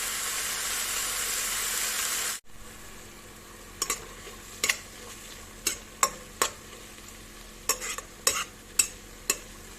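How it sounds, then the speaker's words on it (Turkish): Minced meat dry-frying in a pot without oil, a loud hissing sizzle that cuts off abruptly, followed by a quieter simmer punctuated by a string of sharp utensil clacks and scrapes against the pot. "Hiç yağ koymadan şöyle sulanıp suyunu çekene kadar kavuralım."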